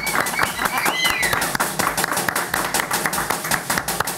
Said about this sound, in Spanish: Vamos a recibir con un aplauso a la morena Catina